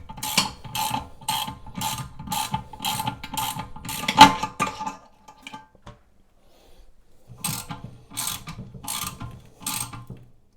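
Toilet tank bolts tightened down evenly with a ratchet, a rapid run of sharp metallic clicks, then a pause and a second shorter burst of clicks, close and alone.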